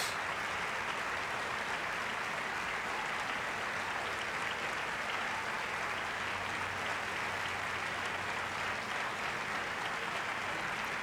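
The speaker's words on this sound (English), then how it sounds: "Thunderous applause." Sustained, thunderous applause fills the space, a dense, steady wash of clapping at an even level throughout with no break, and no talking over it.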